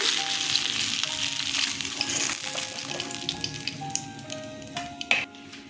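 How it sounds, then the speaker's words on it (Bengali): Fish fries in hot oil with a constant close sizzle, crackling pops and a few utensil clinks toward the end, with no voices over it. "দেখুন সব মাছ ভাজা হয়ে গেছে"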